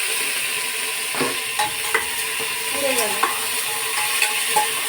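Vegetables sauté in a pressure cooker under a constant hiss of frying, with a few scattered clinks and scrapes as they are stirred, close and fairly loud, no talk.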